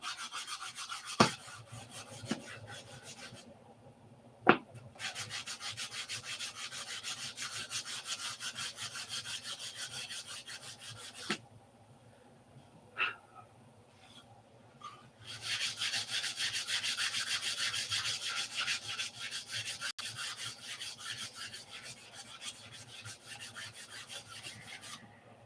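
Long back-and-forth strokes of 150 grit sandpaper on the flaps of a P-47 model, a close, rhythmic rasping that runs steadily with a few pauses and sharp taps between passes.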